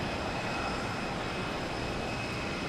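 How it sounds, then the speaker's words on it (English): A Hainan Airlines airliner taking off at Boston Logan Airport, a steady, broad engine roar that holds constant and fairly loud from a distance without clear rise or fall. "we got Hainan Airlines taking off, heading to Brussels"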